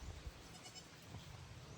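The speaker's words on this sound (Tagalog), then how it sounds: "ayan ang mga kambing natin dito." Goats on a farm, some of them week-old kids, give faint, scattered bleats over a quiet outdoor background.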